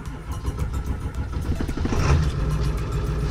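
Ford 7.3 PowerStroke diesel pickup engine cranking and firing up, a loud close rumbling start that struggles briefly before settling into a rough, throbbing idle.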